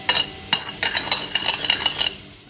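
Edible gum (gondambi) roasts in a pan, with a string of quick metallic scrapes and taps from a spoon stirring it over a light crackling sizzle, close and clear.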